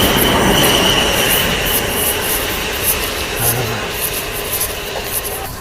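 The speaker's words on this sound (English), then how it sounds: "That's my train. Going." A train pulls away from a station platform, its wheels rumbling and squealing along the rails in a loud, steady roar that slowly fades a little as it departs.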